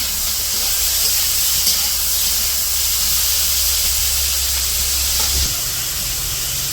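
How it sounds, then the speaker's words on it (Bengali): Eggplant and potato frying in oil with salt and green chili added, a steady loud close hiss and sizzle throughout, with a low hum beneath that cuts out shortly before the end. "বেগুন আলু ভাজা একটু হয়েছে একটু লবণ দিয়ে দিল কাঁচামরিচও দিয়ে দিচ্ছে"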